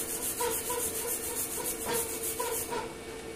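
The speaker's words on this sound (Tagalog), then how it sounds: "grinder ang gamitin. O cup brush. Mas mas reliable ang cleaning natin." An angle grinder fitted with a cup brush scrubs a weld from overhead-position surfacing, giving a continuous close rasping, rubbing whir that pulses rhythmically as the brush works across the metal, with no talk.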